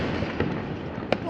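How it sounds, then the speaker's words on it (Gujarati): Diwali firecrackers burst in the distance over a dense rumbling wash of far-off explosions, with a couple of sharper pops standing out and faint voices in the background. "જો આ દૂર કેટલા ફટાકડા ફૂટે છે."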